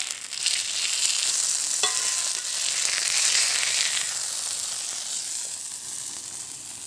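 Fish frying in sesame oil, cooked in a primitive outdoor setup, gives a continuous close hiss and sizzle lasting throughout, with one brief clink near the start and no voices.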